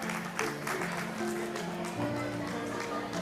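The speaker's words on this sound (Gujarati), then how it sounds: "ભરતભાઈ પૂજારાને પણ આપણે સૌ તાળીઓથી વધાવશું." An audience claps steadily to welcome a district judge at a Lohana community honour ceremony, a dense wash of applause running the whole time with faint tonal sounds in the background.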